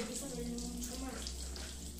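Chicken breasts browning in margarine in a frying pan, a steady close sizzle holding for the whole stretch, with a low hum beneath and faint speech-like tones mixed in.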